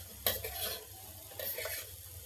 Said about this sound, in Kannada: ಸ್ವಲ್ಪ ಎಣ್ಣೆಯಲ್ಲಿ ಬಾಡಿಸ್ಕೊಂಡು